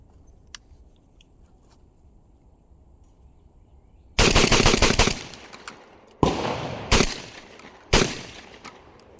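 A Mac 1014 shotgun, a Benelli M4 clone, fires outdoors: a fast string of loud, close blasts followed by three more separate shots, with a quiet lull before the first.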